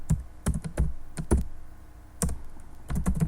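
Computer keyboard keys clack in short, irregular bursts as a code string is typed, with pauses between clusters of close, moderately loud keystrokes.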